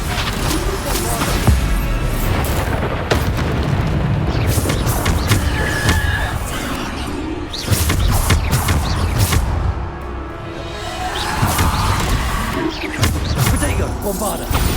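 Repeated explosion spells in a Hogwarts Legacy duel, heavy booms, slams and crashes layered over continuous combat effects, loud and close throughout.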